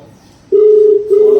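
A phone call's dialing tone plays loudly through a Boat Stone 650 Bluetooth speaker, a steady pure tone that starts after a moment of quiet, breaks briefly, then resumes.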